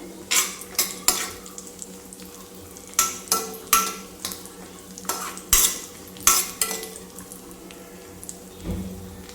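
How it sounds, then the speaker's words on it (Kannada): Raisins fried in a pan for chow chow bath are stirred with a metal utensil, giving clusters of sharp scraping and clinking strokes with short pauses over a faint background sizzle. "ನಾನು ಸ್ವಲ್ಪ ದ್ರಾಕ್ಷಿ ಹಾಕ್ತೀನಿ ಇದರಲ್ಲೇ ಫ್ರೈ ಮಾಡ್ಕೊಳ್ಳೋಕ್ಕೆ"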